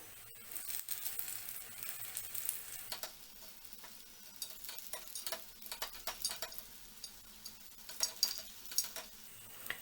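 Sweet millet paniyaram batter sizzling in an oiled paniyaram pan, a soft continuous crackle with scattered ticking pops and small stirring clicks, fairly quiet and close with no talking.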